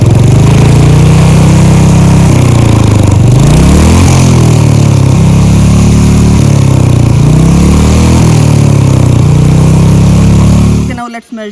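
Small single-cylinder engine idling steadily with a loud mechanical drone, then rising in pitch as the throttle opens, falling back and rising again, close and dominant throughout before cutting off at the end.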